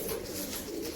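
A Kal Duma pigeon coos steadily in a loft in Mumbai, a close, continuous soft cooing with no talk over it.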